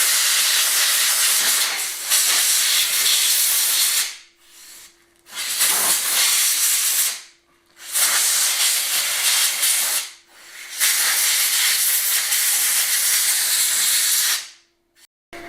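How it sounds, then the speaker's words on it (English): An air compressor blows debris out in long, loud hissing bursts of compressed air, four blasts separated by short pauses, steady and close. "Blow on the compressor, blow all the rubbish out of it."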